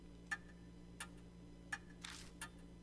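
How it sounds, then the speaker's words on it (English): Grandfather clock ticking in the horror video game Death Mark, a few spaced, sharp ticks over a low steady hum, fairly faint and with no voices. "Silence descends, broken only by ticking."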